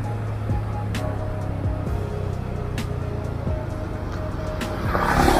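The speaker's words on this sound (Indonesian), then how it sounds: "asli ngeri ngedengar suara mesin ngedrum." A modified Honda Beat Deluxe scooter engine hums steadily and droning under acceleration, with a tone that builds gradually and grows louder toward the end, heard alone without talk.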